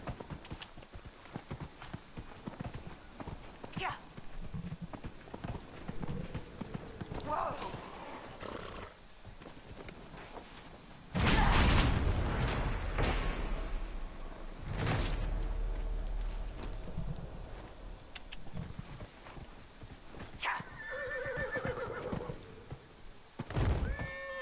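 Horse hooves clop steadily in a video game over a noisy, busy background, with a horse whinnying and occasional heavy thumps and bursts of rumbling.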